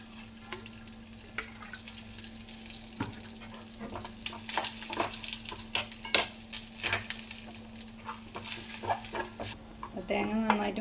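Grated coconut frying in oil with curry leaves in a pan for a homestyle chicken curry, a soft steady sizzle broken by stirring clinks and scrapes, close but fairly quiet, with a rooster clucking faintly in the background.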